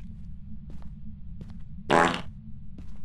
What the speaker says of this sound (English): Hello, fart sound.